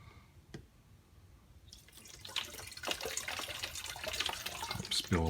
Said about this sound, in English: I'm spilling water everywhere,